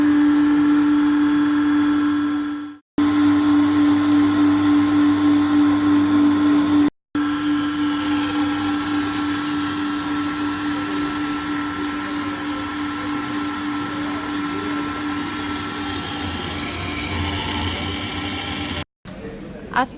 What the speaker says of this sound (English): You switch on the pump, and then you turn the valve to regulate the flow rate.